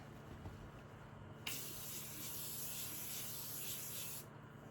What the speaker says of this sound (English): I'm gonna set with Morphe setting spray.